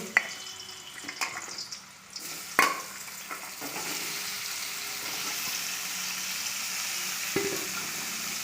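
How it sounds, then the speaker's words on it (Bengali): Cucumber pieces hit hot oil in a pan and are stirred for a cucumber and puffed-rice ghonto. A few sharp scrapes and clinks come first, then a steady, fairly soft sizzle continues throughout. No one speaks. "এবার তেলের উপরে শসাগুলোকে আমি দিয়ে দেব।"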